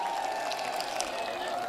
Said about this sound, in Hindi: तो अब सब जोरदार तालियां बजाकर हेमाराम जी का स्वागत करो